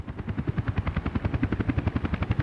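A helicopter in the Soviet city-building game Workers & Resources: Soviet Republic, its rotor beating in a steady rapid chop, loud and close throughout with no talk.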